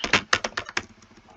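Rapid keystrokes on a computer keyboard while entering a command in STATA's command line: about six crisp, close clicks in quick uneven rhythm, fading into lighter taps at the end, with no voices.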